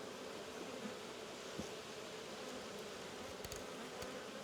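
Honey bees in a queenless hive swarm around during a full apiary inspection, a faint, continuous low buzzing drone with a few brief knocks, no speech.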